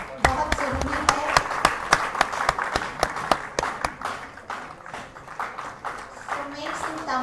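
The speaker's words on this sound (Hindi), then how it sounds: "तालियों की गड़गड़ाहट बहुत जरूरी है।" Applause at a Sunday program as the audience welcomes a guest, with a burst of sharp claps in the first few seconds that fades into looser scattered clapping, mixed with voices.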